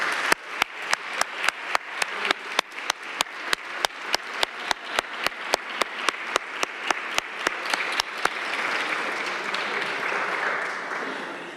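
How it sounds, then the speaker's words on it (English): A round of applause at a city council meeting, crowd clapping steadily throughout, with loud regular sharp clicks punctuating the first eight seconds before the clapping continues alone. "that round of applause is well deserved"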